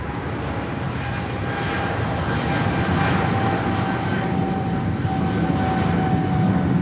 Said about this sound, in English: This is EVA Air Flight 15 departing to Taipei on a 777-300 ER.